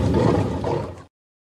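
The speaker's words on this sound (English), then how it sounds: "Over there, a lion looking for his tea." A lion's roar in a jungle-themed children's song, a single loud, rough sustained roar lasting about a second that breaks off abruptly into silence.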